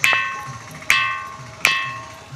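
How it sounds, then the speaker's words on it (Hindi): A ringing rock on Jhunjhunwa hill near Aurangabad is hit three times, evenly spaced, each strike giving a bright metallic clang like brass or iron that rings and slowly fades, close and clear with nothing else around. "ऐसा लग रहा है जैसे हम कोई मेटल का या फिर पीतल का या फिर लोहा के धातु पे हम मार रहे हैं"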